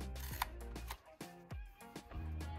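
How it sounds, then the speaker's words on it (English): A Dymo LetraTag 100H handheld label maker trims a freshly printed label in a workshop: close, crisp mechanical clicks and a short snipping cut, several sharp transients over a low steady hum, with no one talking. "So press this button here and it'll cut it."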